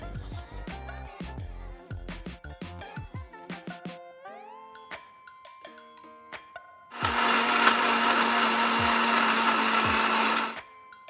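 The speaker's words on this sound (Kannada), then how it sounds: "ಮಸಾಲೆ ಏನು ರೆಡಿ ಮಾಡಿ ಇಟ್ಟಿದ್ವಿ ಅದನ್ನು ಮಿಕ್ಸಿ ಜಾರ್ಗೆ ಹಾಕಿ ಎಲ್ಲವನ್ನು ಸ್ವಲ್ಪ ನೀರು ಹಾಕಿ ಇದನ್ನು ಚೆನ್ನಾಗಿ ರುಬ್ಕೋಬೇಕು" A kitchen mixer grinder whirs loud and steady for a few seconds as it grinds prepared masala with a little water in the jar, preceded by clinking and handling sounds.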